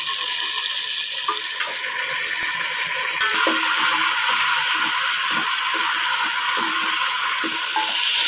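Potatoes and chickpeas sauté in a pan, giving a loud, steady hiss with light scraping and stirring noises up close throughout, and no voices.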